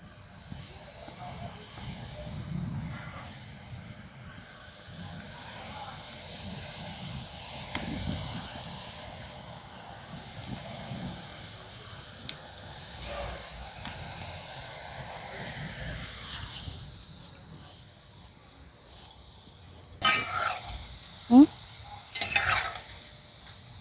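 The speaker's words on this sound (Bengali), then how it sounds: "আবারও কিন্তু ওইভাবে ভেজে নিচ্ছে" Gathiya snack dough frying in hot oil makes a soft, steady bubbling hiss throughout, with a few louder utensil clinks and scrapes near the end.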